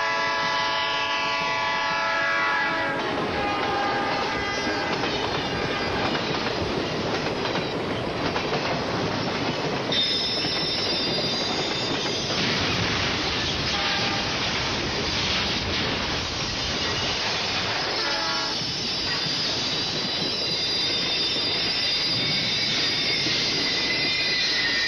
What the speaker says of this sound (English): I also did hear the sound of a train